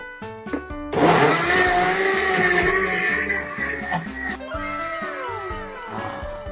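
A blender crushing ice roars loudly for several seconds, grinding and crushing, then slows and whines down to a stop.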